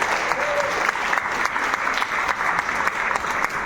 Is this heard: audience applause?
yes